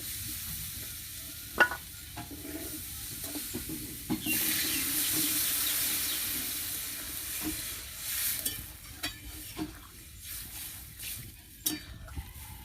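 Water poured into a hot pan of sizzling vegetables during a vegetarian Bengali cooking session with potato and borboti beans: a sudden loud hiss swells and fades, followed by clinking spoon stirs and intermittent pan taps.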